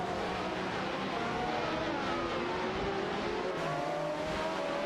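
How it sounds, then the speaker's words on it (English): Race car engines roar continuously at a steady, loud level, with a dense mechanical drone and occasional revving swells throughout. "Let's rev up those engines and enjoy the race."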